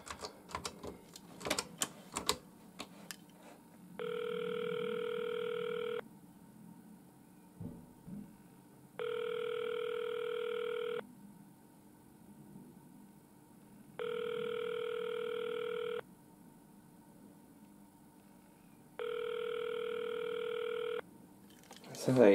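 Four evenly spaced DTMF tone bursts dialed on a 1978 Western Electric "Design Line" Mickey Mouse telephone, each about two seconds long with pauses between, follow some clattering handling noise at the start; the tones are steady and clear.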